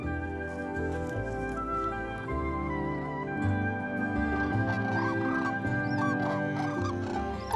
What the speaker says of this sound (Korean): 두루미가 날아오를 때는 항상 서로 소리를 주고받는다.